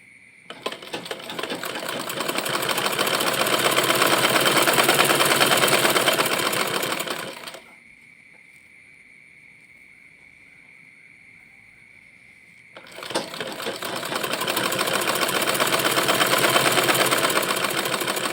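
Sewing machine stitching a jilbab cap runs loud and steady for several seconds, pauses to a faint hum while the fabric is turned, then resumes its rapid continuous stitching.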